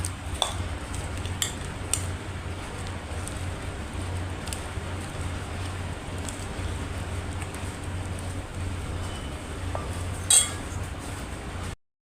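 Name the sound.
stirring spices and garlic into bitter gourd pickle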